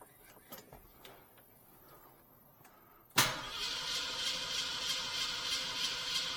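A 1971 Ford Mustang Mach 1 engine with a mechanical fuel pump cranks briefly with faint clicks, then fires abruptly and settles into a loud, steady idle close by.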